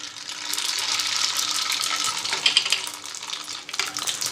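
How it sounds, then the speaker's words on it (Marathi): Mustard seeds hit hot oil for tempering a green chili bhaji, giving a steady, dense close-up sizzle with crisp popping crackles that flare briefly in the second half. "आता अपन ही भाजी फोड़नी दे पहिले मोहरी टाकूया"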